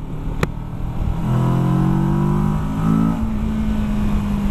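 A 2017 Kawasaki Versys 650 motorcycle with the Z650 engine revs up loud and close after a sharp click, climbing in pitch, holding a strong rising drone, then easing back to a steady higher idle.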